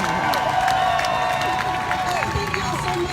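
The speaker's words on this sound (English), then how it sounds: "can y'all applaud and pretend like I just got done?" A rally crowd at a march from a youth jail to city hall claps and cheers steadily at close range, a dense wash of applause lasting the whole stretch.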